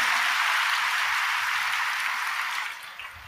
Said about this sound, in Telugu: నీకు అర్థమైతే చప్పట్లు కొట్టి దేవుని మహిమపరచు